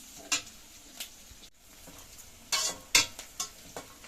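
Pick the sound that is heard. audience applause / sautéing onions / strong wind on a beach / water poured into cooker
sautéing onions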